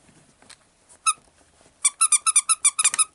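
Repeated high squeaks from a Beetlejuice plush dog toy being squeezed, a couple of isolated squeaks and then a rapid burst of about a dozen sharp, loud squeals close by, with no talking.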